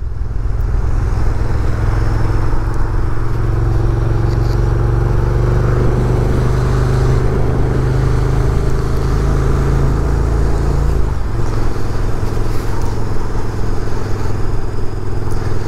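A KTM Super Duke 1290 motorcycle holds top speed on the Autobahn, its engine droning loud and steady with heavy wind roar, then the pitch drops sharply near the end as it slows.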